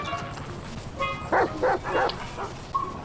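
Police dogs in the video game GTA V give a short run of about four sharp barks close by, the last one softer, with a little background noise between them.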